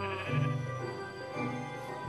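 Sheep bleating in a Minecraft survival world, several wavering bleats close by and fairly loud, running through most of the moment with no talking over them.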